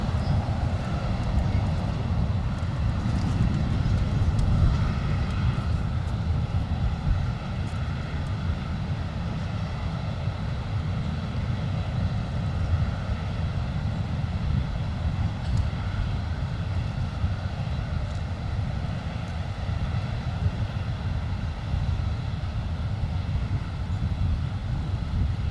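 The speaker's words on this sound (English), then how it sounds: "This is Emirates Flight 215 coming in from Dubai, now doing a go-around." Emirates flight from Dubai performing a go-around at LAX, with a loud steady broadband jet engine roar sustained throughout, strongest early and holding near constant.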